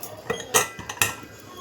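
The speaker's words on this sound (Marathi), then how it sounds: "आता घेऊया कुकरचं झाकण आणि कुकर इथे बंद करूया." A pressure cooker lid set on and shut, a series of sharp metallic clanks and clinks, two louder knocks among lighter taps, close by in a kitchen.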